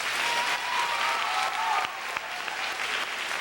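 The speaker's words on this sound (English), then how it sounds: "Let's give God a hand clap." A school assembly audience claps for a few seconds, dense and lively at first, then thinning to scattered claps as it fades.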